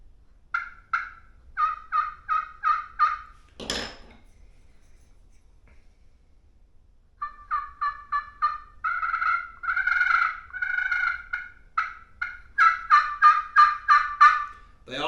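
Yelping runs from a slate turkey call played with a striker come in rhythmic series of raspy, close notes, broken by a brief sharp knock and a pause before louder, faster sequences resume, with no talking.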